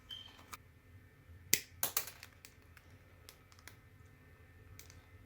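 A handheld crimper snips and bends the end of a spiral binding coil, a couple of sharp close clicks and snaps followed by faint scattered ticks against a quiet room.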